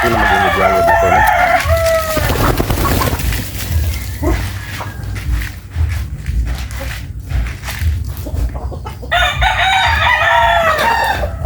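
Chickens cluck steadily near and far while a rooster crows loudly at the start and again near the end, with layered poultry calls filling a farmyard and no talk.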